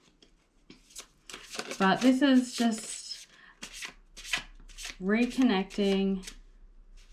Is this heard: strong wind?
no